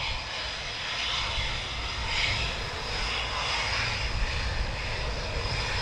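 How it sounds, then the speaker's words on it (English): An F-35 fighter jet arrives at RAF Coningsby during NATO exercise Steadfast Noon 2022. A steady, distant engine roar holds throughout and swells slightly midway. "That is an F35 at Coningsby, it's just arrived."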